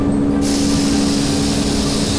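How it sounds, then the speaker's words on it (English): Hose-fed sprayer misting Faux Effects AquaGard onto a door, a loud, steady hiss that switches on abruptly and runs continuously over a constant machine hum. "what I'm gonna do is just start spraying the door"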